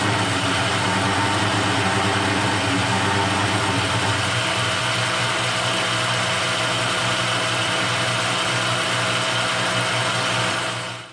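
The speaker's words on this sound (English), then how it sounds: "I'm now turning down the diameter of the entire piece to 1 inch and 375 thousandths" A metal lathe turns down the diameter of a workpiece over about an inch and a half of its length, producing a steady, continuous machining drone with a sustained hum throughout that cuts off at the end.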